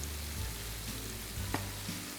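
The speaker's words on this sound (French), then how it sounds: "là je les laisse frire un peu jusqu'à ce qu'elles soient dorées" Small dough balls fry in hot oil, giving a steady, faint, close sizzle with a few small pops and crackles and no talking.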